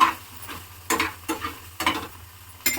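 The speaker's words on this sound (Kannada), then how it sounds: "ನಾನು ಇವಾಗ ಚೌಳಿಕಾಯಿ ಹುರ್ಕೊತಿದ್ದೀನಿ" Cluster beans (gorikai) frying in a pan, with intermittent scraping stirs of a spatula over a soft background sizzle, each stroke a short bright swish repeating every half second or so, close and moderately loud, no talking.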